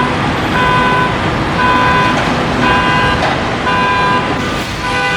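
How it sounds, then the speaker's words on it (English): A loud, dense New York City street din, with a car alarm and horns blaring in repeated bursts over constant traffic rumble and construction noise. "We have car alarm going off, we have a jackhammer, more construction, and then all the other sirens and horns that continuously go off here in the city."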